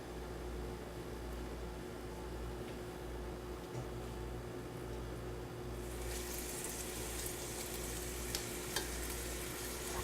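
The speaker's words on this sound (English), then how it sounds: "They're starting to sizzle." Bacon sizzles and crackles steadily in a pot, the frying hiss growing brighter and louder partway through.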